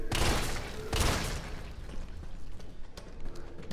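Shotgun blasts in Resident Evil 3, two loud close booming shots about a second apart followed by lighter mechanical clatter and thumps, with no talking.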